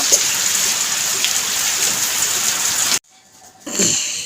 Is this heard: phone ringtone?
no